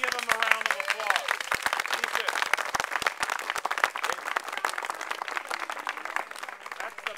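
Steady, dense applause from a crowd honoring veterans at an outdoor park BBQ, sharp claps filling the whole stretch with a voice briefly heard at the start.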